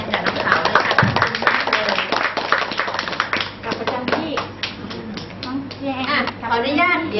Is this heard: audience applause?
yes